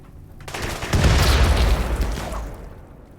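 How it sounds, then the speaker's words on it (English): Grenade blasts and gunfire in a RimWorld battle erupt in a dense, loud roar of overlapping booms and rapid shots, swelling after a quieter start and holding heavy for about two seconds before easing off. "Because they're now just lobbing grenades."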